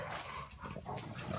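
Several bully-breed dogs play together outdoors in the morning near water, with scuffling, panting and small whimpering and yipping sounds at close range throughout.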